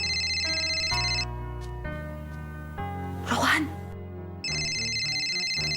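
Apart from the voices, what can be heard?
telephone ringing during outgoing call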